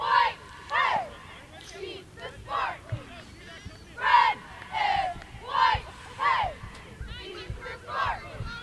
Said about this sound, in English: You can hear in the background, we've got the Cardinal cheerleaders here cheering on the Lady Cards